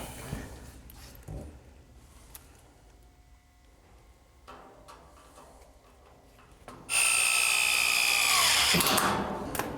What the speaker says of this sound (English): Screw it in on both sides?